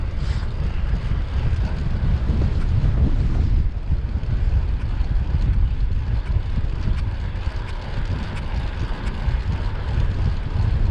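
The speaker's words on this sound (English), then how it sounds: "it's quite headwindy today" Strong headwind buffeting a microphone while cycling downhill in Richmond Park, a loud continuous low roar of gusty rushing air lasting throughout, with no voices.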